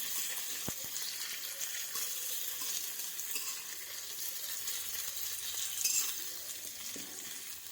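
Onion and cumin seeds frying in hot oil while cooking green cauliflower and potato bhaja, a soft, steady sizzling hiss with a couple of faint clicks, no voices.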